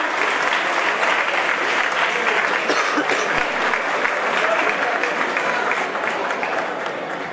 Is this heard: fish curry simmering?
no